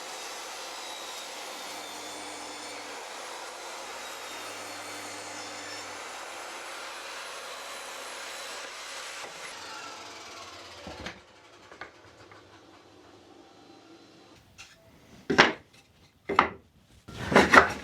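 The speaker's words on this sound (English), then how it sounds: "So I'm going to cut 4 pieces of this pallet wood down to make a frame for it." Pallet wood being cut into four pieces for a footstool frame: a loud, steady power-saw roar runs for about ten seconds, then stops, followed by scattered knocks and a few sharp wooden clatters.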